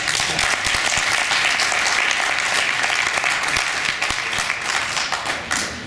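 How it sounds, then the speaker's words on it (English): Loud, sustained applause from an audience at a Jamaican cannabis industry event, dense clapping filling the whole stretch with a few sharper individual claps standing out near the end. "so I need a round of applause for that."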